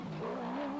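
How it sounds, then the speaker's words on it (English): A rally car engine drones at high revs as it passes another car on a narrow, very bumpy route in the 2008 Central Europe rally, a brief loud rising whine with nobody speaking. "Philippe Gache passing another car"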